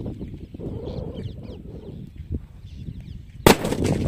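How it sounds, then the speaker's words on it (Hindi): A 555 foil bomb firecracker explodes outdoors with one sudden loud bang near the end, after several seconds of low rumbling background noise and faint bird clucks. "555 वाला फॉइल बम और ये फूटा"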